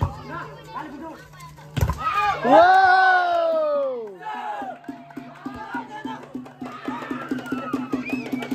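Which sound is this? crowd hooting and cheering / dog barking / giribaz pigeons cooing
crowd hooting and cheering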